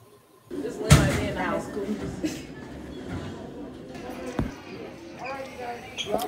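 A school locker in a middle school hallway is kicked and slammed, producing a loud metallic bang early on and another sharp hit later, amid hallway noise and a voice talking.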